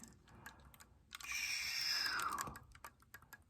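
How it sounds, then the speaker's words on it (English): Clarinet keys clack and click as a lower key is pressed during assembly, a close run of small mechanical taps with a brief squeaky tonal slide in the middle. "when we click a lower key"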